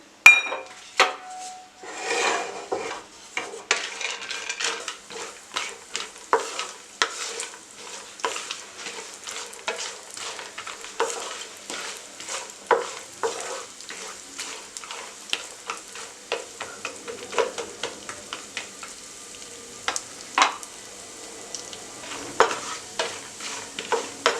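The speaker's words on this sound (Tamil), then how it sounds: "நட்ஸை வந்து நல்லா ஃப்ரை பண்ணிடலாம். இப்போ நான் முதல்ல வந்து கேஷ்யூஸும் ஆல்மண்ட்ஸும் போடுறேன்." Cashews and almonds frying in a pan for hemoglobin laddu, stirred constantly with a spoon: rapid dry scraping clicks and knocks over a light sizzle, close and busy throughout with no voices.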